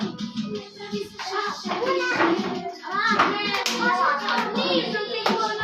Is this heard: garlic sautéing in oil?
no